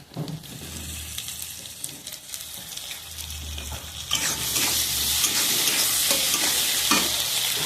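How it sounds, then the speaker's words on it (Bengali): Chopped tomatoes hit softened onions in a pan for egg curry, giving a close, steady sizzle and fry with scraping stirs throughout, growing louder and brighter partway in, with no talk. "এবার টমেটো কুচনোগুলো আমি দিয়ে দিলাম।"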